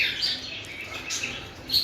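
Several cockatiels chirp in bursts of high, thin calls, with a louder near call toward the end, over a constant aviary background. No one speaks.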